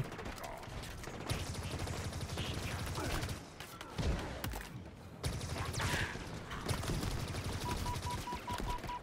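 Needler weapon firing in Halo Infinite gameplay, heard as rapid, dense bursts of crackling shots with short pauses between them, loud and up front over game sounds.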